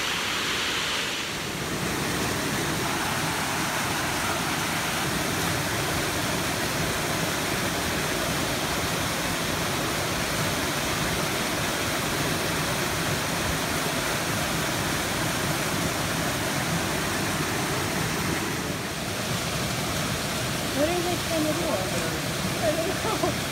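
The waterfall at Homer's Creek on the Appalachian Trail rushes steadily throughout, a constant broad roar with people talking faintly over it at times.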